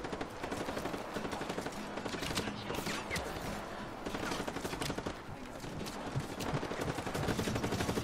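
Dense, sustained gunfire from Just Cause 3 rattles on for the whole stretch, overlapping bursts of automatic fire and single shots packed together with explosive cracks, loud and continuous, with no talking over it.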